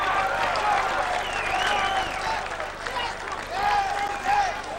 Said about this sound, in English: This is the crowd in attendance